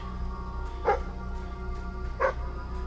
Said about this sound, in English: I know, Maxie, I can hear your barks